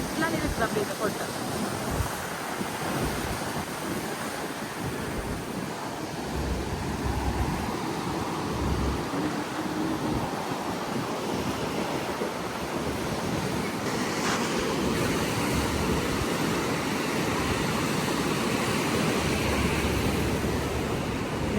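Sea waves breaking behind the Mount Lavinia Hotel in Colombo, a continuous loud surf roar with wind rushing across the microphone, steady and close throughout.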